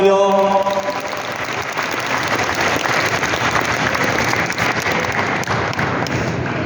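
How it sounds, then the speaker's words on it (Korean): An audience at a book launch event gives sustained, loud, dense applause that starts at full strength and holds steady throughout, with no speech over it. "박수 한번 주실까요?"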